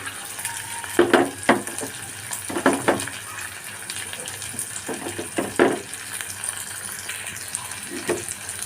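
Small onion pieces sautéing in hot oil for a mackerel curry: a steady soft sizzle broken by irregular scraping and stirring clatters in the pan, close and moderately loud, with no talking.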